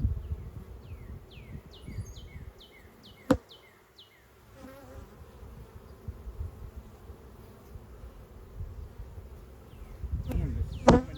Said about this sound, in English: Man, there's so many bees